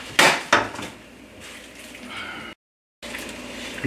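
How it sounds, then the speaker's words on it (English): A hot pan on medium-low heat is scrubbed with a brush and baking soda, giving two sharp knocks near the start, then a steady close scraping and fizzing hiss, broken by a short silence before the scrubbing resumes. "I'm gonna get my brush and turn the heat to medium low, and we're gonna wash this pan just like this"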